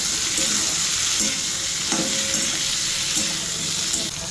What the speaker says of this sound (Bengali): আদা বাটা, একটু ভেজে নেব